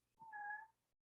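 A pet cat meows once near a window, a single short, clear call that rises and holds before trailing off into near silence.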